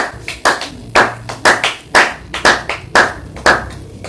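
A church congregation breaks into applause, hand claps arriving in uneven bursts that swell and fade in repeated waves, fairly close and loud, with no talking over them.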